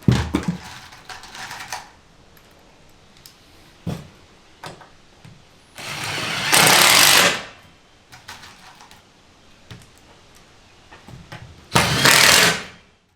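Self-tapping screws are driven into the wall of an enclosed trailer by a power driver, sounding as two loud sustained whirring bursts between scattered clicks, knocks and handling noises.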